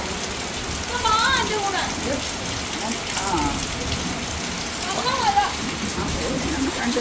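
Constant rainfall hisses evenly throughout, with voices speaking intermittently over it.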